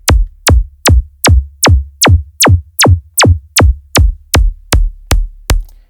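Hardstyle kick drum from a kick plugin, about fourteen punchy, booming hits at an even tempo, each with a sharp click and a deep, short tail, loud and alone.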